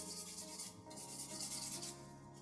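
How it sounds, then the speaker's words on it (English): A file rubs back and forth over acrylic nail tips in quick, soft, close strokes, faint and alone. "I'm going to file the other tips."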